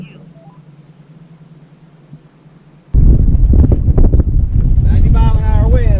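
Strong wind buffets the microphone while kayaking on a windy day, a quiet rumble for the first three seconds before a loud, roaring gust takes over, with people talking over it.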